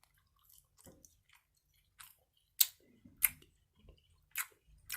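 Close, quiet chewing of dried beef biltong, with scattered soft bites and wet crunches spread unevenly over a few seconds and a few louder, sharper chomps standing out.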